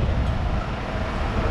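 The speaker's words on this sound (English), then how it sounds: "very windy" Strong outdoor wind buffets the microphone, a steady loud low rumble and roar with no talking over it.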